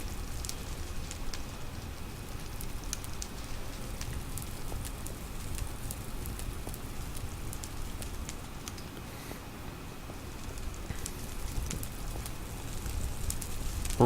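Steady rain falling in the modded Minecraft game Agrarian Skies, a soft continuous patter with faint crackles, quiet and even throughout with no talking.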